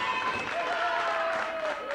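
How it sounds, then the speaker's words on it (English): Crowd applause ringing through a 1979 Detroit Big Time Wrestling arena, a steady dense wash of clapping and cheering throughout, with a sustained whistle-like tone drifting beneath it. "I don't know who he's applauding there"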